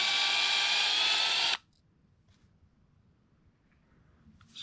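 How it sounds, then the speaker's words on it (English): A power drill spins a Floyd Rose guitar bridge part with a steady high-pitched whine for about a second and a half, then cuts off abruptly into near silence. "Let's get it out of the drill so we can actually look at it closely."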